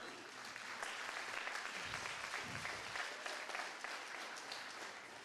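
An audience at a health product seminar gives a continuous round of applause, a dense, even wash of clapping lasting the full five seconds at moderate volume.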